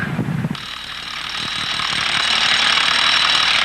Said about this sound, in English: she's drilling holes in this concrete so that they can put these large bolts here